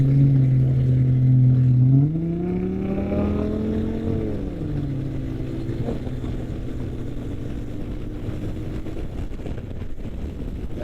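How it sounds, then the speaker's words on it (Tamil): An Audi's engine revs loudly on a nightlife street in Baga, Goa, its pitch climbing and sliding through a couple of throttle swells before settling into a steady, gusty rumble with wind noise. "என்ன சவுண்டு ஆடி"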